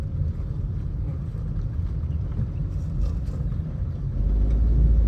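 A car pulling away in first gear, heard from inside as a steady low engine and road rumble that grows slightly louder and heavier toward the end, with no clear speech.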